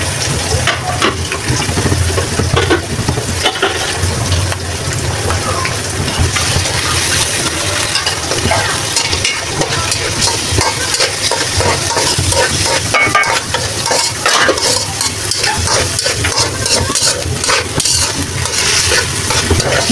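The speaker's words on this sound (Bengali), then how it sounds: "একটু কষাই থাক।" Red lentils sautéing and being stirred in a pan, a steady dense sizzle with the scrape and clatter of a spoon against the pan continuing throughout at close range.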